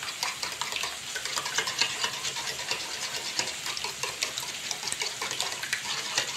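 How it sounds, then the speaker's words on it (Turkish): Two eggs whisked briskly in a bowl, giving a fast, steady, close-up clatter of rapid strokes that holds evenly throughout with no speech. "Ve ilk olarak yumurtalarımı güzelce çırpıyorum."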